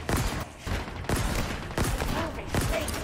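Shotgun blasts in the shooter game Halo Infinite, four loud, close booming shots spaced roughly evenly apart, with gameplay noise between them.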